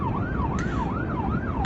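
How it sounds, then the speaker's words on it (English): An ambulance siren wails past in a steady rising-and-falling sweep, loud and continuous over traffic noise, with no talk. "There's an ambulance passing by, so you may hear a little bit of noise."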